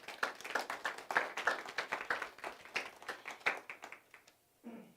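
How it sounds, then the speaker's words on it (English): A small congregation at a church service claps in a scattered, uneven patter for several seconds, close by, tapering off before a brief rustle at the end. "a round of applause would be appropriate"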